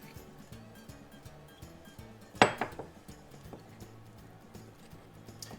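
Spoon clinking against a mug while mixing microwave brownie ingredients, quiet scraping and stirring with a couple of brighter clinks in the middle, faint against a low background.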